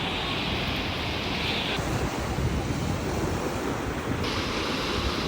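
Ocean surf rolls and breaks steadily along the shore on a family beach getaway, a loud continuous wash with gusts of wind buffeting the microphone throughout.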